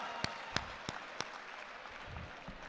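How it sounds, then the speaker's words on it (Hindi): Sparse, faint applause at an Urdu poetry mushaira gathering in Indore, a handful of distinct sharp claps spaced out at first, then thinning into low murmur. "तालियां बजाइए जोरदार"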